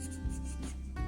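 A pen scratches and rubs across paper in short strokes, faint and close in a quiet room, with no talking.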